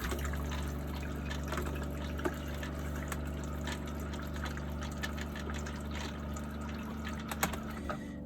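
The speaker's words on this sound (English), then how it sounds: "And it fills up the bowl with a lot more water." Water rushes steadily into an RV toilet bowl as it flushes and fills, a continuous close-up gush with faint clicks and no talking.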